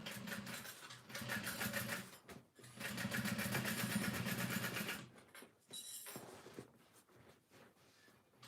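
A Brother PE 1500 embroidery machine stitching a backpack project, giving a steady mechanical whirring with fast repetitive ticking in two long bursts, then quieter, choppier machine noises toward the end.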